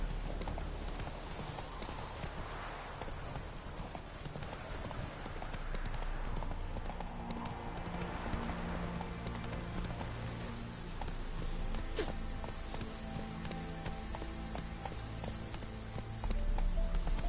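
Roach, the horse in The Witcher video game, gallops with a steady, rapid clip-clop of hoofbeats that keeps going for the whole stretch at a constant, close loudness.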